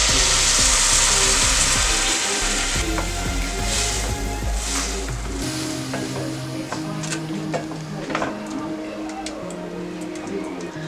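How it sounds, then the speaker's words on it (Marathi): Moong dal frying in ghee in a pan for halwa, a bright steady sizzle that settles into softer crackling while it is stirred, with scraping and someone speaking in the background. "तुपामध्ये आपण चांगलं ही मूग डाळ फ्राय करून घ्यायची आहे."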